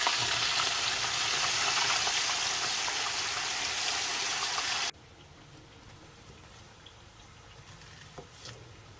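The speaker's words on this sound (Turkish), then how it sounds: "Patates ve patlıcanları kızartmak için aslında." Loud, dense sizzling of potatoes and eggplants frying in hot oil, which cuts off abruptly halfway through, leaving a quiet background with faint clinks.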